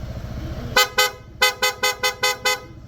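A loud aftermarket PIAA horn on a Honda PCX160 scooter sounds in a quick series of sharp toots: two beeps, a brief pause, then five more in steady rhythm, close by.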